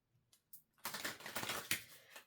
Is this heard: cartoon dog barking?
no